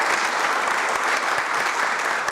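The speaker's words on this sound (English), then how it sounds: "How about a quick round of applause for our teams?" A seated audience at a city council meeting gives a quick, steady round of applause for the teams, a brief dense patter of many hands with no talk over it.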